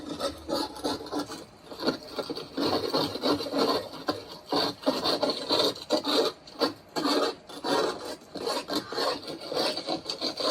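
Rough scrubbing of a blistered, moisture-damaged stucco wall, quick rasping strokes in an irregular back-and-forth rhythm, close and fairly loud.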